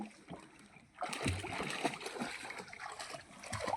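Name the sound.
splashing water as someone swims with a tied-on gallon float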